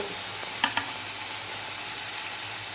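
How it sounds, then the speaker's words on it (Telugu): Capsicum, onion, ginger and garlic pieces fry in hot oil in a pan with a steady, quiet hiss, broken by two brief clatters of ingredients or a utensil near the start. "అల్లం వెల్లుల్లి ముక్కలు ఇవన్నీ వేసి ఒక టూ త్రీ మినిట్స్ ఇలా మగ్గనిద్దామండి"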